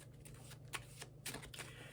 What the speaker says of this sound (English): I'm gonna shuffle a little bit.